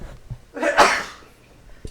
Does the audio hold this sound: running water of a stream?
no